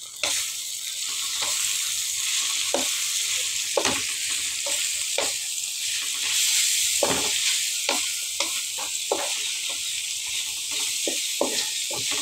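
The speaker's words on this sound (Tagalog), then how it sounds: "Pwede na siya mahalo." Bitter gourd and egg stirred in a frying pan: a steady oily sizzle fills the whole stretch, broken by repeated scrapes and knocks of the spatula against the pan at an uneven pace.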